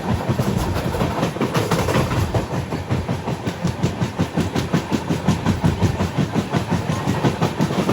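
A passenger express train, the Tirunelveli–Purulia express, rushes past at a crossing in a loud, steady roar with rapid rhythmic clatter of wheels over rail joints, heard close and continuous throughout.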